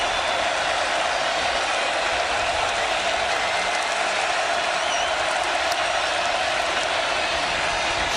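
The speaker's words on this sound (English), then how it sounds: "Katie, listen to this crowd on 3rd and 8." Stadium crowd at a college football game in Tallahassee roaring loudly and steadily on a third down, a dense continuous wash of cheering with no gaps across the whole stretch.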